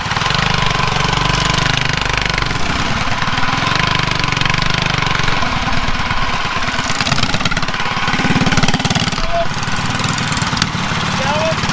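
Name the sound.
drag racing mini bike engine running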